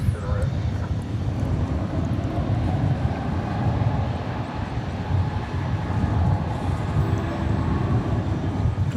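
Viva Aerobus commercial airliner at DFW Airport at night, a steady broad low jet roar that holds for the whole stretch, fairly loud and unbroken.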